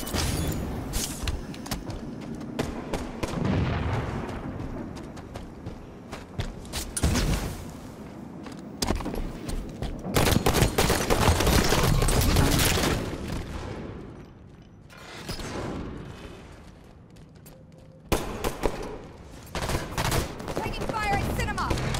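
Heavy gunfire in a video game battle with sniper rifles in play, bursts of rapid automatic shots and sharp single cracks repeating loudly throughout, with a few booms and brief quieter gaps.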